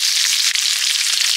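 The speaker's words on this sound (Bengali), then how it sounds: "আলুগুলো ভেজে নেব আগে।" Potatoes frying in oil rendered from fish fat, a loud, close, bright hiss that stays steady throughout with tiny crackles and no talking.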